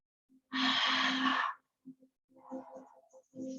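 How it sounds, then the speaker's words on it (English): A single long, airy exhale out through the mouth, close and soft, lasting about a second during a calm yoga twisting session, followed by quiet, low vocal murmurs. "Clearing, cleansing breath out through the mouth."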